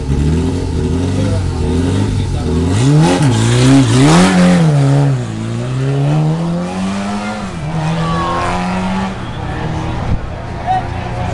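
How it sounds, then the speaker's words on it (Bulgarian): Rally car at a Bulgarian rally stage start near Sliven, engine revving hard and climbing through gears as it pulls away, loud and close with a commentator talking over it throughout. "сега пилота, който стартира Марин Панайотов от АСК Пулсим"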